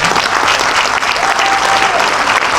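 Audience applause at a comedy gala in Cannes, a dense continuous wash of clapping from a large crowd, loud and steady throughout.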